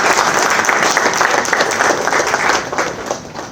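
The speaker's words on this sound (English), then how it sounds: "you can give an applause for yourself." An audience of doctors at a mechanical ventilator and ECMO workshop applauds on Doctors' Day, steady close clapping filling the room for a few seconds before tapering off slightly.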